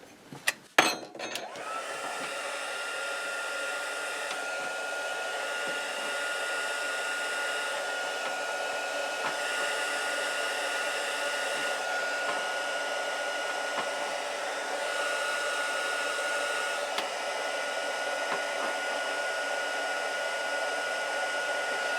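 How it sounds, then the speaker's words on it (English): A heat gun blows hot air to dry adhesive during a repair on a Sony TC 650 tape deck. A few close clicks and knocks come first, then a loud, steady whooshing roar that continues alone for the rest of the clip. "I'm going to try to dry it really quickly with my heat gun."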